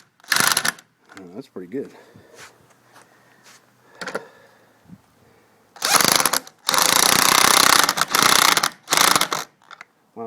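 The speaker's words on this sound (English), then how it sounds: "Now I'm going to use my impact wrench here and try to crank them down a little bit." An impact wrench tightens anchors in a carport in several loud buzzing bursts of rapid hammering, the longer ones near the end, with quieter handling noises and a man's brief remark between them.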